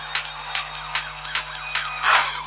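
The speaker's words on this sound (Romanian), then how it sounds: "Mereu când eu filmez trebuie să apară o ambulanță." An ambulance siren sounds in the Need For Speed racing game, with loud, rapid yelping pulses repeating about twice a second over a low steady hum and no voices.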